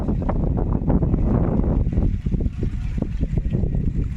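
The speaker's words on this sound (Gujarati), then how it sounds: "ઠંડો ઠંડો પવન" Steady gusting wind at a hilltop Hanuman temple site in the Gir hills, rumbling loudly against the microphone with a low buffeting roar throughout, no voices.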